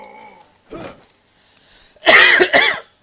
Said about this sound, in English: Ugh, coughing right in your ear.